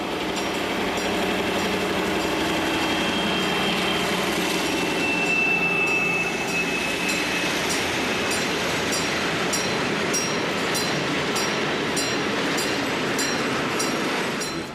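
An Italian Class 216 Krupp diesel locomotive, built in 1960 and hauling on a busy line, rumbles past with a loud, continuous roar, rhythmic clickety-clack of wheels and a brief high squeal.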